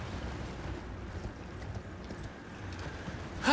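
A horse gallops in the video game Elden Ring, with a continuous muffled rhythm of hooves under a low rumbling background, ending in a brief louder sound.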